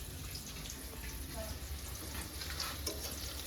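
Ash gourd frying in a pan makes a steady, close sizzle with occasional stirring scrapes, running continuously at an even level with no pauses.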